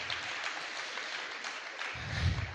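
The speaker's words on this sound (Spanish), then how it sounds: "Démosle un fuerte aplauso a Jesús, al Rey de Reyes y Señor de Señores" Church congregation applauding together, a dense steady wash of clapping that swells louder toward the end with a low rumble joining in.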